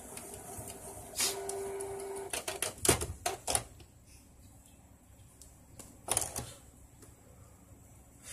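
Canon iP2770 inkjet printer running a test command, giving a series of short mechanical clicks and whirring carriage bursts at close range, with a louder cluster of clatters midway and another near the end, no talk.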